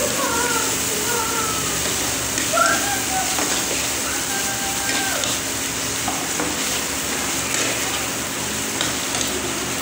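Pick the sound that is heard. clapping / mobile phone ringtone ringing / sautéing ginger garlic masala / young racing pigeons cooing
sautéing ginger garlic masala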